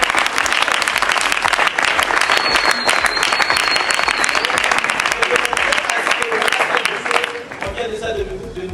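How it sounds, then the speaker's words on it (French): Sustained applause from a live audience at a talk on stereotypes, dense steady clapping filling the room for about seven seconds before thinning out, with voices mixed in underneath. "Est-ce qu'on peut encore acclamer pour ça?"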